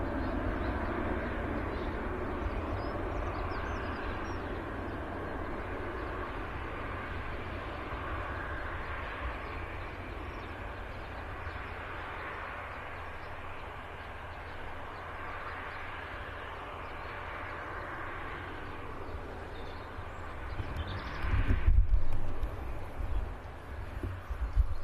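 A departing airliner climbs out of Birmingham Airport, its steady, distant jet roar filling the air throughout with a broad rushing rumble, rising briefly near the end.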